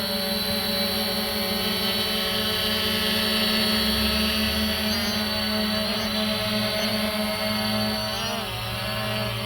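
A Fimi X8 SE drone hovers steadily and spins in place, its loud, constant rotor whine with layered high harmonic tones filling the whole span, pitch shifting slightly as it turns, with no talk.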